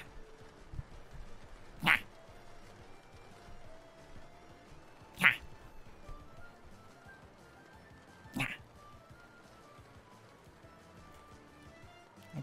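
Cats meowing in Red Dead Redemption 2, three short sharp meows spaced a few seconds apart, fairly loud against a quiet, faintly murmuring background.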